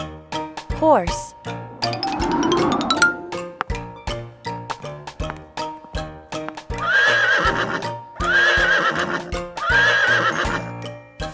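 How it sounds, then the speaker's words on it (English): A cartoon horse neighs in a rising, whinnying call, followed by repeated clip-clopping hooves and jingling bell tones that come in loud, rhythmic bursts. "Horse."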